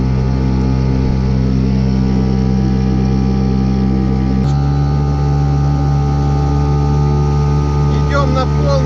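A motorboat runs on the Oril river with a loud, steady, close engine drone that shifts pitch midway and then holds on, with no talk heard over it.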